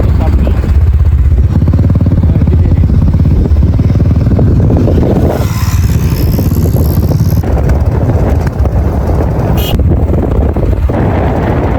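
A motorcycle rides through misty hills near Kodaikanal, its engine a steady low drone buried under heavy wind buffeting on the microphone, with people talking over it.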